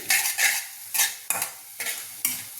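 Dry red chillies frying in a pan for a chilli tamarind chutney, heard as crisp sizzling in short bursts with repeated scraping stirs about every half second, close and fairly loud, with no voices.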